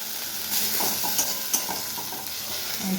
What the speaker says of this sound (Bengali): আদা কাঁচা লঙ্কা জিরে আর ধনে দিয়ে দিলাম এবার মশলাটা একটু কষাই